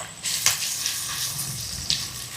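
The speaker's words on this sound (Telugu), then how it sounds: "ఇప్పుడు ఈ ఉల్లిపాయల్ని బంగారు వర్ణం వచ్చేంత వరకు వేపుకుందాం." Sliced onions fry in hot oil with whole spices, star anise and cinnamon stick, for hotel-style hariyali biryani, giving a steady close sizzle with a few brief louder pops and no talk.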